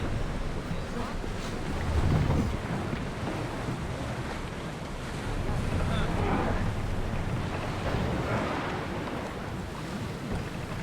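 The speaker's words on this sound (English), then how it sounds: "Get ready to set sail!" A sailing ship sets out to sea in Assassin's Creed Odyssey: broad rushing wind and surging waves fill the scene continuously, swelling louder at a couple of moments, with no clear voices over it.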